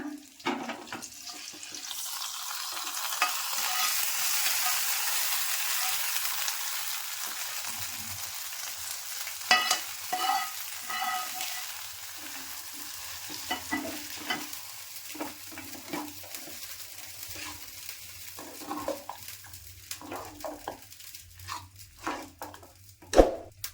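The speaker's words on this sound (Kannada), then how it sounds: "ಇವಾಗ ಪೊಂಗಲ್ ಮಿಕ್ಸ್ ಮಾಡ್ಕೊಳ್ಳೋಣ" Khara pongal is stirred and mixed in a pan after the tempering, a soft sizzle fading under scraping spoon strokes and scattered clinks, close and without talk.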